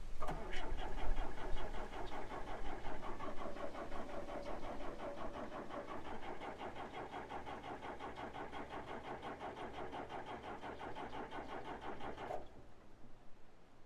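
A Cat D3 dozer's diesel engine cranking without starting, a steady rapid rhythmic chugging of the starter that runs loud and close for about twelve seconds before cutting off abruptly, with no talking.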